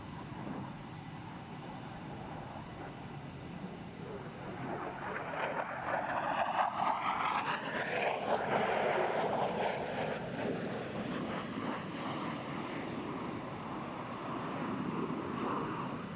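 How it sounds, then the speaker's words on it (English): A military jet at an air show at NAS Oceana flies a rolling pitch-up into the landing pattern, its engine roar swelling and sweeping past overhead from a distance, then fading to a steady rumble. "She will cross the runway at 500 feet and perform a rolling pitch up as she turns to the downwind leg"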